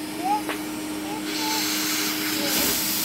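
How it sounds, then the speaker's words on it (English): A vacuum cleaner hoovers up small Lego pieces, giving a steady close whine and hiss with brief rattling pickups, while a voice and an adult talk over it. "Hoover up the little ones."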